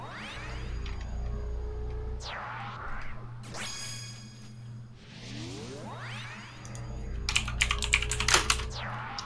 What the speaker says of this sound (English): What are you typing about?